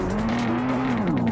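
Car in a deer simulator video game, driven fast with a loud, sustained tire squeal over a close engine hum across a brief stretch, no voices.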